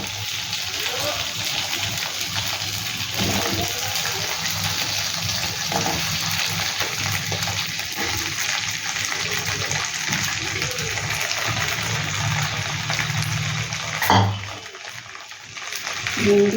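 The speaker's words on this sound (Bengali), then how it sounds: "তেলটা দেখো গরম হয়ে গেছে এবার ভেন্ডিগুলো দিয়ে দিচ্ছি" Okra dropped into hot oil for dahi bhindi gives a steady, broad sizzling hiss that carries on throughout, with a short clatter near the end and a voice faintly audible beneath.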